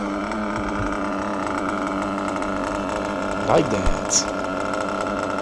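A modified Reds R5R Racer 5.0 nitro model engine with adjusted crank timing runs at a steady high-pitched buzzing idle, with a short rev burst mid-clip; a voice speaks briefly close by.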